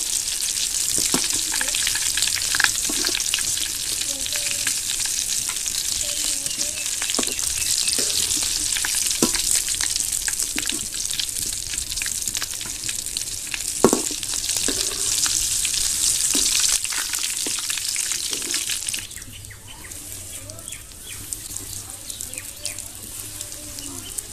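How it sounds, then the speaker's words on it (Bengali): Steady bubbling sizzle of potato egg chops deep frying in hot oil, close and continuous, with occasional soft clinks and stirring. "চপগুলো একটু ডুবো তেলে ভাজতে হবে"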